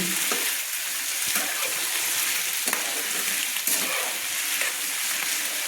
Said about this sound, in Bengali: পেঁয়াজ কলিগুলো একটু খুন্তি দিয়ে কিন্তু নেড়ে নিচ্ছি।